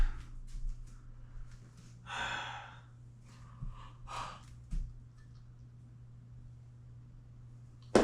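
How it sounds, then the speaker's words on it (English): A person yawning during an arm workout, with a drawn-out breathy gasp and a few shorter sighing breaths, close and fairly quiet over a steady low electrical hum. "Enough of the yawning shit."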